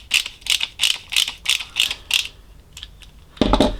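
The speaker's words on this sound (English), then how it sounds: "So I'm going to mount this on the UKPro pole" A GoPro mount is clicked and ratcheted onto a UKPro extendable pole: a close run of rhythmic plastic clicks and creaks, about eight in a row, then a brief pause and a louder grinding twist at the end.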